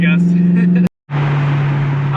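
Engine of a BMW E92 M3 with a manual gearbox, not yet warmed up, humming steadily from inside the cabin while driving, briefly cut off, then resuming with road noise under a man's speech.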